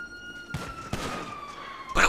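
Police siren in GTA V: a steady wailing tone runs through the clip, with sharp bursts of game gunfire and impacts around it, and no talk over it.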